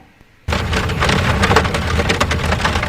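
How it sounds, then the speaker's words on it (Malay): Heavy rain suddenly swells in after a brief quiet moment, a loud, dense roar of drops pounding a surface, like driving through a downpour at night, with faint thunder-like rumble underneath. "Tengah drive waktu hujan pada malam tu."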